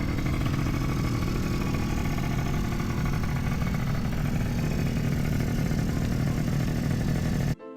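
Yamaha Zuma scooter engine running steadily at the beach, a continuous mid-pitched drone holding level for several seconds before cutting off abruptly at the end, fairly close.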